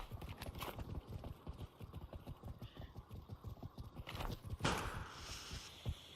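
Rapid footsteps from a VR video game match patter in quick irregular succession, with scattered clattering and a louder thump near the end, no one speaking.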